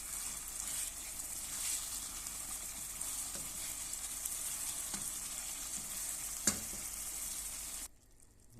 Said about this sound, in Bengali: দেখেন আমি মাংসটা বোনা বোনা পাক করছি।